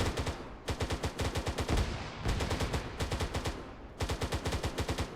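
Rapid bursts of automatic gunfire from an infantry firefight in the Arma 3 military game, loud and continuous, with several sustained volleys separated by brief gaps.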